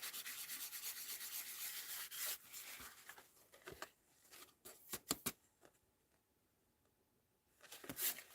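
A tissue rubbed over heat-embossed powder on stamped paper, giving soft papery rubbing strokes in uneven bursts with quieter pauses between, close and faint.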